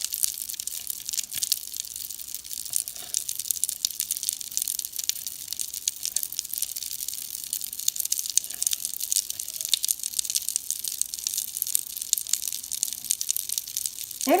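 Pop Rocks candy fizzes and sizzles in water, a constant fine crackling hiss of tiny pops that stays close and even throughout with no talking.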